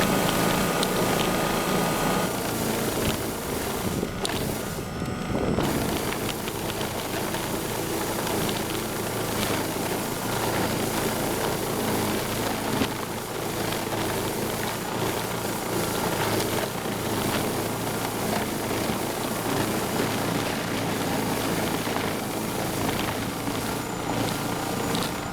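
A Ryobi 40V HP brushless Whisper snow blower is pushed through heavy wet snow with its chute angled down. A steady, dense motor-and-auger whir runs nonstop, close and even, with a brief dip partway through.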